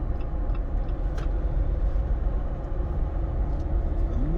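Engine of a 2021 Jeep Wrangler Unlimited Rubicon EcoDiesel pulling hard under acceleration, a steady low rumble with road noise from inside the cabin, no talking.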